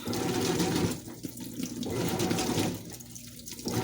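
A washing machine on a heavy duty cycle churns soapy, saturated clothes with a steady loud swishing, sloshing wash punctuated by two brief lulls as the drum agitation shifts.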